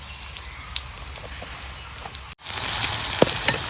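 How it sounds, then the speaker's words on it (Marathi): Asafoetida dropped into hot mustard oil already holding chillies and mustard seeds, a quiet crackle that bursts into a loud, steady sizzle partway through, during a village-style radish vegetable tempering. "आणि आता टाकतोय ह्यो हिंग."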